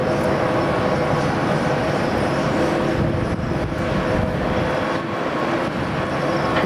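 Jet airliner landing at Amsterdam Schiphol Airport, heard as a loud, steady broadband roar that holds evenly throughout without any clear rise or fall.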